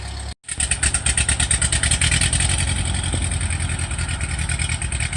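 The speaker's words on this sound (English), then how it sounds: "But this tractor has a hesitation when you give it wide open throttle." A World War 2 era Ford 9N tractor engine runs steadily up close after a brief cut at the start, its loud, even exhaust pulses carrying a hint of hesitation under load.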